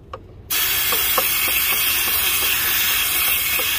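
Quick-drying cleaner sprays from an aerosol can onto a greasy oil pressure sensor area of a Cummins ISX15 diesel engine, a sudden loud, continuous hiss starting after a brief quiet moment.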